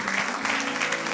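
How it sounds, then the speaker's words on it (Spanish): A church congregation in Brownsville, Texas applauds during a service, a brief, steady burst of many hands clapping together at moderate loudness. "dele un fuerte aplauso a Dios."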